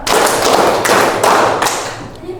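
A group clapping together in unison, broad sharp bursts recurring at a steady beat, loud and close with no talk.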